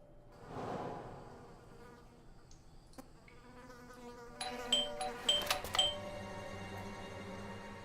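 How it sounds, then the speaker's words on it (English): A doorbell rings in the detective video game Blues and Bullets, a cluster of bright chiming tones around the middle over a quiet, humming background ambience. "I thought I should use the doorbell, so I wouldn't startle you."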